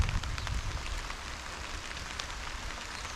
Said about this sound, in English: And the rain's picking back up.